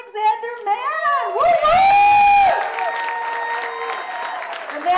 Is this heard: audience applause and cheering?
yes